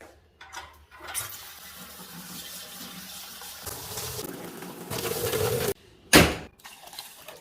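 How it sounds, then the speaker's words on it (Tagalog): Water runs and splashes from a kitchen tap while rice for sushi is washed, with sloshing, rinsing and swirling in stops and starts, a sudden loud gush near the end, and faint clinks of a container. "Hugasan ito ng 2 beses."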